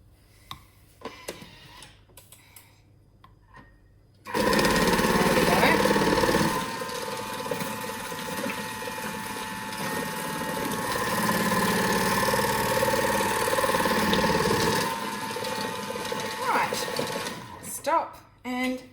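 A Thermomix cutter attachment slices cabbage wedges for coleslaw with a steady, buzzing motor whir that runs for about thirteen seconds, framed by brief handling clatter and a voice at either end.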